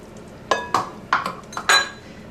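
Flour being mixed into cinnamon roll dough in a bowl, heard as five sharp clinks and scrapes of a utensil against the bowl at irregular intervals, close and clear with no talking.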